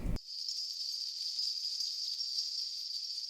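A brief low thump gives way to a steady, airy high-pitched hiss that holds evenly for a few seconds, like a sweeping transition effect.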